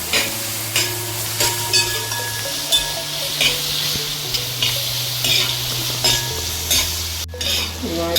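Onions sauté with salt in a pan for a Kerala-style prawn curry, with repeated scraping stirs over a constant sizzle and soft background music.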